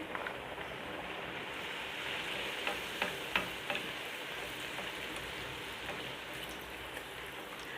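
Puri deep-frying in hot oil, a soft continuous crackling sizzle with a few sharper pops, fairly faint and steady with no talk.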